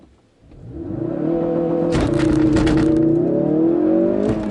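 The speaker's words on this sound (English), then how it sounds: "Love the launch mode in this car." A 2016 Ford Focus RS launches hard on a race track, its engine roaring loud and close, rising through the revs with rising harmonic sweeps and a shift partway through, then pulling steadily onward.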